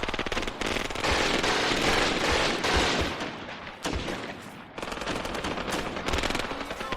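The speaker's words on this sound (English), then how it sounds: "I keep hearing that MG. I don't know if it's a 34 or a 42" German MG 34 or MG 42 machine gun fire in the Graviteam Tactics war game: loud, dense, sustained bursts of rapid shots, with a short break before another long stream of firing.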